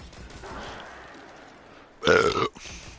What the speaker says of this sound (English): Gotta clip that burp.